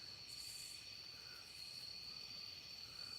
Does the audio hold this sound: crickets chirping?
yes